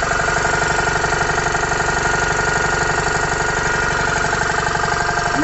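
A vintage Motivair air compressor running, a loud close steady mechanical drone with a fast even pulsing chug throughout, no talk over it.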